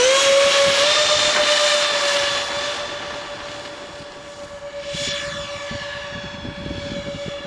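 A Freewing SU-35 RC jet takes off at an obstacle course, its ducted-fan engine roaring loud and steady with a sustained high whine that dips slightly, then swells as the model climbs, with no talk.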